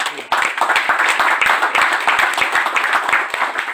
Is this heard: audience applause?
yes